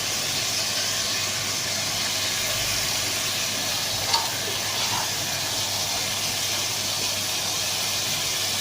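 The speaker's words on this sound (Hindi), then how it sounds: "ये मैं डाल रही हूँ अब मुंगरे इसमें" Mungray, fried savoury pieces, dropped into a hot pan for a mungray and potato dish, giving a steady, loud, even sizzle and hiss that carries on throughout with no talking.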